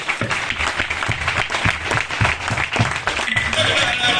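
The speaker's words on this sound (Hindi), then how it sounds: "जोरदार तालियां" Loud, sustained applause fills a seminar hall at a business marketing event in Faridabad, a dense wash of many hands clapping for the whole stretch, with rhythmic peaks as the crowd claps together.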